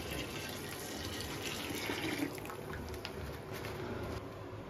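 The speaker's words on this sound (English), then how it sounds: "Now we're putting the boiled water or the hot water up to this, approximately here." Hot boiled water pouring into a container for traditional candle making, a steady continuous splashing stream with faint background noise, heard close up.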